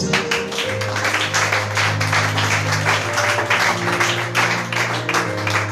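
A church congregation applauds in a steady, sustained wash of clapping over sustained music, loud and close throughout.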